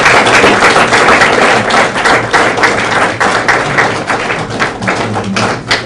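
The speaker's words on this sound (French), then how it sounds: "On applaudit encore une fois de plus très fort" Audience at a formal launch event for COGID-USA applauding loudly and steadily, a dense, close wash of many hands clapping that carries on throughout without letting up.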